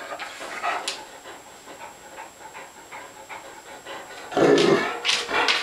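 A hungry dog fusses while waiting for soaking food, giving a run of close panting and soft whimpers with a louder burst of activity near the end.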